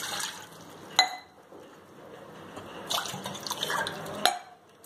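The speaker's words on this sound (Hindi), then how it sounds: "अब सबसे पहले घुगुनी में 2 गिलास पानी डाल देंगे।" Water trickles and drips into a container with a few sharper splashes and clinks, fairly close and quiet, no talking.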